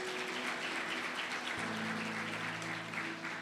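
A church congregation applauds, a continuous even clatter of many hands heard from a distance under a low sustained hum.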